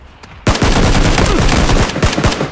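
A loud burst of rapid gunfire from a shooter game erupts suddenly after a quiet start and keeps going as a dense string of close, sharp shots.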